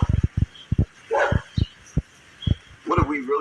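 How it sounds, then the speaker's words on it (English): A neighbor's dog barks in short repeated bursts nearby, the sharp woofs alternating with a voice talking between and over them. "that's not my dog. That's the neighbor dog."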